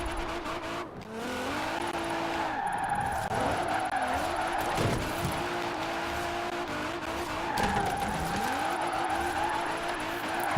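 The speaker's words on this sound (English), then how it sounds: "This car is actually really good at drifting." Tires squeal and skid in long, wavering sweeps as a car drifts through corners in Forza Horizon 4, the engine droning steadily underneath, loud and continuous, with a brief lull midway before the sliding picks up again.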